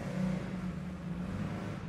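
A 1957 Maserati 200 SI sports racing car bodied by Fantuzzi, its engine running in a steady low rumble with a slight rise in revs, heard close and continuous at an indoor auction with no talk.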